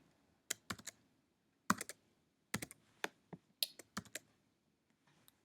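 Keys tapped on a computer keyboard in short irregular bursts of crisp clicks, close and fairly quiet, with pauses between groups and no talking.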